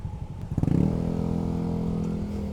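A motorcycle engine revs up close in city traffic, ridden from an Airblade 150 scooter, rising to a steady loud drone.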